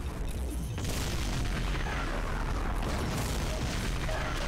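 Heavy booming missile explosions from the Cyberdemon in Doom, loud and continuous with rumbling low end and repeated blasts layered over one another.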